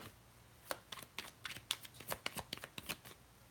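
Tarot cards are shuffled by hand in a quiet room, a quick run of crisp riffling snaps and flutters in uneven bursts, close and soft.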